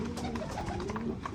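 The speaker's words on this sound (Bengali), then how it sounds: "এই কবুতরটা, এই বাচ্চাটা," Pet pigeon cooing close by in a backyard loft, a soft, steady low coo running through the short stretch with some faint background noise and no talk.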